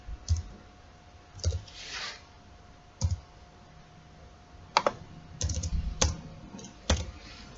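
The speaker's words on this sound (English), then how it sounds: "let me first quickly type this code and then I will explain it later" Someone types jQuery code on a computer keyboard, producing scattered bursts of crisp key clicks separated by short pauses, close and fairly quiet.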